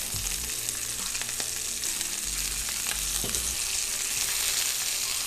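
Pork pieces frying in hot oil, turned to brown each side, give a steady, close sizzle with scattered pops and faint stirring clatter throughout.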